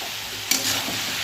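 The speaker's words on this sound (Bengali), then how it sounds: "তাহলে এবার ভালো করে নেড়ে মিশিয়ে দেবো।" Ridge gourd with turmeric and salt being stirred in a pan, a soft continuous sizzle with one brief scrape as the spoon moves through the vegetable.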